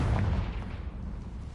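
A Confringo fire blast spell explodes in the video game Hogwarts Legacy, a loud rumbling boom with a deep low-end roar that holds steady for over a second without any talk.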